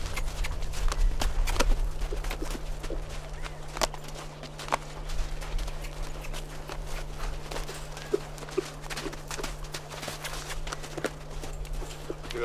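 A horse's hooves clip-clop steadily on the ground during halter training, walking with frequent changes of direction, the close, regular footfalls sounding over a constant low hum with occasional faint talk.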